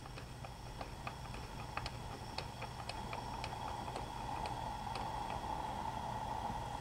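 Air hisses steadily out of cylinder number two of a BMW E46 engine during a leak-down test. The hiss is continuous and moderately loud, with light irregular ticking clicks over it.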